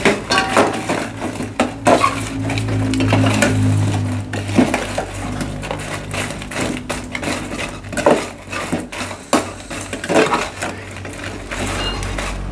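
Metal utensils scrape and clatter against a hot frying pan as seasoning is stirred in, a steady close-up rhythm of knocks and scraping over a low sizzle.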